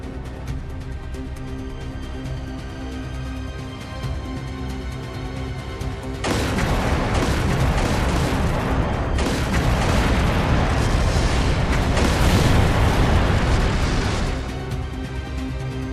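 A battle in the video game Trails through Daybreak II breaks out: after a quieter stretch, dense bursts of gunfire and booming explosions erupt loudly and continuously, rising in intensity before easing slightly at the end.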